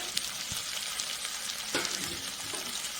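Goat head masala curry in a pan being stirred after chili powder, coriander powder, mutton masala, garam masala and pepper go in, with steady close sizzling and a few scraping strokes of the spoon.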